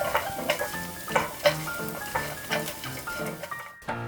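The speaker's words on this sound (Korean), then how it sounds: "팬이 뜨거워지면 식용유를 넣고 호두, 빵가루를 넣고 노르스름하게 볶아주세요." Walnuts and breadcrumbs toasting in cooking oil in a pan over medium heat, a soft crackling sizzle broken by repeated rhythmic scraping strokes as the mixture is stirred, close and moderately loud, with no talk.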